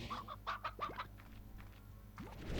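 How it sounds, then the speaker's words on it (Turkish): A chicken in the farming video game Slime Rancher gives a quick run of short clucks, then a few scattered squawks, fairly faint and with no voices over them. "Tavuk var lan."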